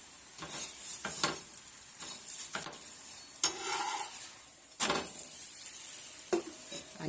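Sabudana paratha frying in oil on a pan: a soft crackling sizzle punctuated by several sharp utensil scrapes and clinks against the pan, close and irregular, with no talking.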